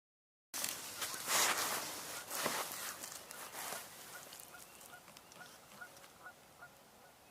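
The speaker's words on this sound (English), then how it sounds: "My guess is snow geese" A flock of snow geese honking in the distance, a loose chorus of overlapping calls that starts abruptly and slowly thins out, heard outdoors with no talking.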